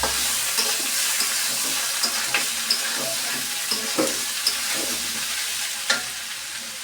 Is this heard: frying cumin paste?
yes